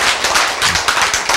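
Audience applause breaks out during a health lecture on diabetes and exercise, a dense run of sharp overlapping claps at steady loudness throughout.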